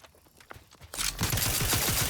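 Gunfire in The Outer Worlds 2, a sudden loud burst of rapid shots erupting after a quieter opening, continuing as a dense volley to the end.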